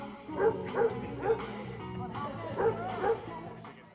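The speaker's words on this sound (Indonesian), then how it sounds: "Terdengar juga suara anjing yang terus-menerus menggonggong seperti merespon benda asing tersebut." A dog barks repeatedly in short, evenly spaced yaps at moderate distance, about half a dozen barks in a row against a quiet background.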